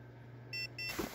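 A handheld electromagnetic radiation tester held near a microwave oven gives two short electronic beeps, faint and close, before a brief soft rustle.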